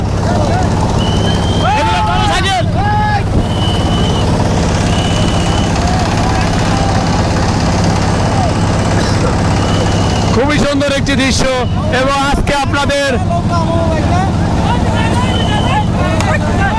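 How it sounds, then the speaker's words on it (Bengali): Speedboat engines drone steadily on the river during a traditional Bangladeshi nouka baich boat race, a constant low hum beneath a man's near, continuous narration, with wind noise throughout. "এদিকে কিন্তু দেখতে পাচ্ছেন অসংখ্য স্পিড বোট"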